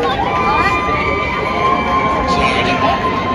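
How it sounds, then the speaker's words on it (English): Spectators at a rugby game scream and holler as a dense, loud crowd roar that fills the whole stretch without pause, with shrill voices rising above the mass. "They going crazy in the back, screaming, hollering."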